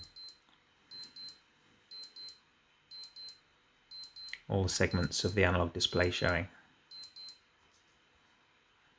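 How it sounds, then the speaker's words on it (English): Rapid high-pitched double beeps from a vintage Seiko G757 digital watch alarm repeat in short bursts at a regular rhythm, while a person talks over part of the sequence. "you'll see a little demo of what happens when the alarm goes off"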